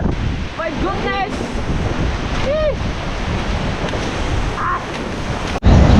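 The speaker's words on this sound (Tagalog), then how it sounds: "Lakas ng hangin, oh." A strong storm wind roars against the microphone beside the sea, with waves and surf rumbling throughout and a few brief high calls cutting through near the start.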